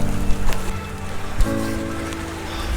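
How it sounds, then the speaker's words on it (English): Rain falls outdoors on a shore during tautog fishing, a dense, steady hiss with a couple of brief thumps, loud and close with no voices. "It's raining today."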